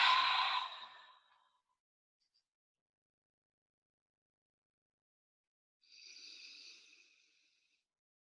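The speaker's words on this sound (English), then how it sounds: "Begin with the breath. Inhale and exhale." Two slow, deliberate breaths during a guided grounding exercise: a soft, airy inhale or exhale at the start, a long quiet pause, then another gentle breath near the end, close and unaccompanied.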